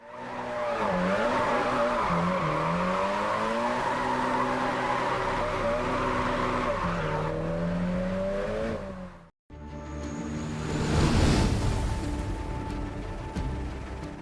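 Car drifting on Japanese roads in a driving video game, a loud sustained engine wail shifting pitch with tire squeal, then a brief cut into another burst of revving engine and skidding.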